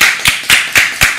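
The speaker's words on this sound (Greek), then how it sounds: "Ένα χειροκρότημα δυνατό ρε παιδιά" Four sharp, evenly spaced hand claps ring out close and loud with no voices, as a group applauds on a home cooking show making a savory cake with graviera cheese and turkey.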